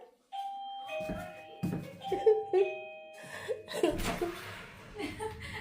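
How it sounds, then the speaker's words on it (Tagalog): A doorbell chimes nearby, its sustained tones ringing out while people laugh and chatter excitedly over it. "Mag-doorbell ka, Day."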